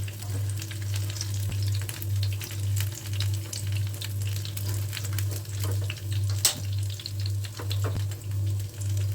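Eggplant fritters (beguni) and egg-potato chops deep-frying in oil for an iftar meal, a steady close sizzle with faint clinks and stirring, under a constant low electrical hum and no talk.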